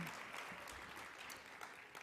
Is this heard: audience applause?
yes